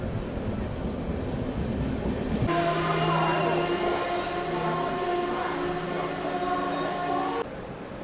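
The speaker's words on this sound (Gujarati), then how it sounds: "આપણી ટ્રેન પહોંચી છે નાસિક રોડ રેલવે સ્ટેશન" A train rumbles and squeals as it arrives slowly at Nashik Road railway station in heavy monsoon, with brake hiss and screeching wheels for several seconds, loud and close.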